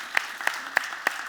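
At a startup founder stage talk, four crisp claps land at an even, slow pace, close and moderately loud, over a faint background of audience applause.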